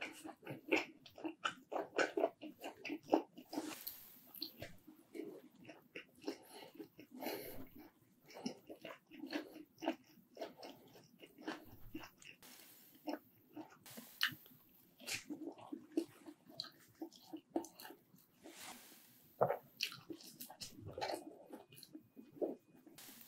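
Someone eating and chewing foods such as mint chocolate, pineapple pizza and cucumber, giving close, wet chewing, biting and squishing sounds in an irregular rhythm that continues throughout, with no talk.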